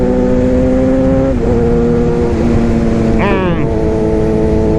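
A Suzuki GSXR 750 motorcycle engine, fitted with new spark plugs, runs at a steady, close, loud drone, then gets one short blip of extra throttle that briefly lifts the pitch before settling back.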